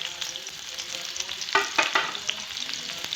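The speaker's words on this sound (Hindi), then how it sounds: "मैंने तेल गरम कर लिया है एंड उसी में मैं प्याज डाल रही हूँ" Onion dropped into hot oil in a home kitchen pan, a steady frying hiss with a louder burst of sizzle partway through as the pieces hit the oil, no voices.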